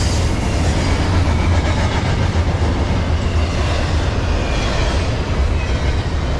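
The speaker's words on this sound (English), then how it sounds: "Train of the day, we got some good foreign power." Norfolk Southern freight train 29G led by a Kansas City Southern ES44AC locomotive with an ET44AC rolls past close by, a steady, loud rumble of wheels and cars that holds from start to finish with no talking.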